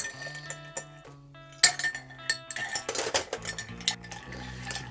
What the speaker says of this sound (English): So a few ice cubes, give it a good stir